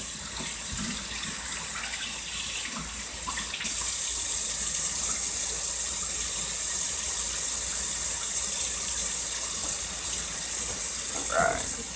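Steady running water from a tap while freshwater fish are rinsed during cleaning, a broad continuous hiss that swells louder after a few seconds and keeps going, with faint handling noises underneath.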